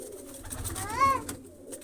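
A pigeon gives a soft, close coo among other birds just let out of newly cleaned coops, a single rolling call rising over a low background murmur.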